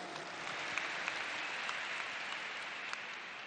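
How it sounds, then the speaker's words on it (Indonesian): A vast rally crowd in a stadium applauds a political speech, a dense continuous roar of distant clapping with a few sharper claps poking through, sustained at even strength. "Tepuk tangan untuk semua yang memilih hadir di sini."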